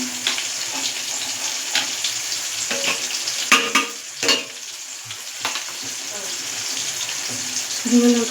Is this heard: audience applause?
no